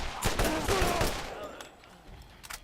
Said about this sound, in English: I like this machine gun because it's not a fucking rapid fire piece of bullshit